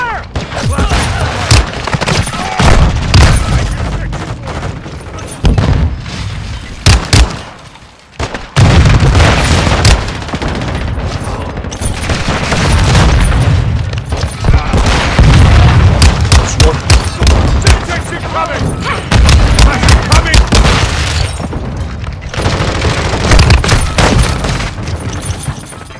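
Rapid gunfire and explosions from the Call of Duty Modern Warfare 2 video game on the Shipment map: dense, loud bursts of automatic fire and booms that run almost continuously, with a brief lull near the middle.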